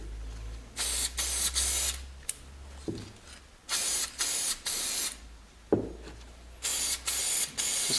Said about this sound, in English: But I'm just going to spray the inside here first.